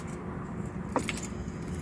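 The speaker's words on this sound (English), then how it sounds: "So we got, so these are the keys that I need for work." A bunch of work keys clipped on a small carabiner jangles briefly in a short metallic burst over a steady low car-interior rumble.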